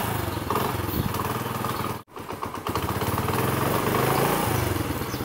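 A motorcycle engine runs steadily up close with a throbbing mid-pitched drone, briefly cutting out for a moment before resuming.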